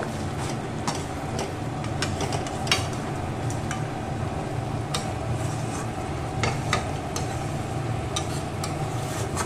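Chicken cooking in white oil with cashew paste in a pan, giving a steady low sizzle with soft scraping stirs and occasional light clicks of the spoon against the pan, close and continuous.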